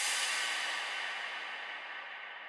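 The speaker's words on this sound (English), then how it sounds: "At certain points of the song, I have a crash" A crash cymbal sample in an afro house remix rings out as one bright, sustained wash that slowly decays over a couple of seconds, heard alone.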